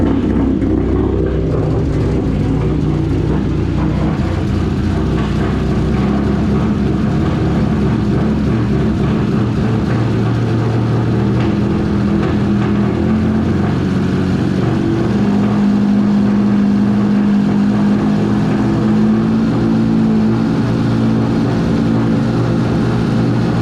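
A 2002 Honda V6 with CNC ported heads runs on a stand, its loud, rough, steady idle close by, with the pitch and level lifting slightly as the engine speeds up toward the end.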